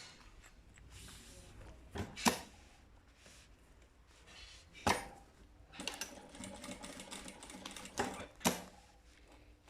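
A sewing machine stitching a bag handle sounds faint and distant, mostly as sharp clicks and brief taps spread through a quiet, intermittent stretch.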